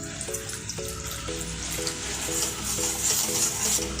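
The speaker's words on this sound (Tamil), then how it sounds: "1 டம்ளர் பாலை கொஞ்சம் கொஞ்சமாக ஊற்றி கட்டி இல்லாத கரைச்சிக்கலாம்" Milk is poured gradually into gram flour while the batter is stirred for besan halwa, giving a steady liquid wash with a regular rhythmic scrape of the spoon against the bowl, close and unbroken, with no speech.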